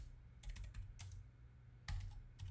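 A command is typed on a computer keyboard on an Ubuntu Linux server setup, a few soft key taps in two short clusters over a low background hum, faint and without speech.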